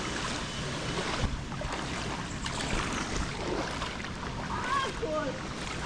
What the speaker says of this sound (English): It's so beautiful, huh? This waterfall. That's powerful, boy.